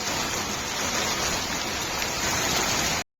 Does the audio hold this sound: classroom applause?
no